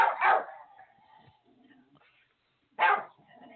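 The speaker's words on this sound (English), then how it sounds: "Hey, hold on. Those are just my dogs." Pet dogs give two loud bursts of barking close by in a home, one at the start and one near the end, with quiet room noise between them.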